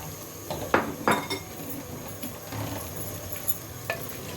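Beaten yogurt being stirred into frying masala for an aloo anday salan, with a spoon clinking and scraping against the pan over a soft sizzle.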